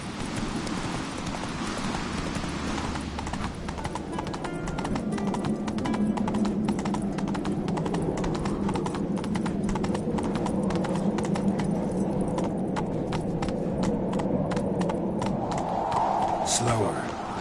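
Roach, a horse in The Witcher 3, gallops with rapid, continuous clip-clopping hooves that stay close and prominent, while a voice speaks over them now and then.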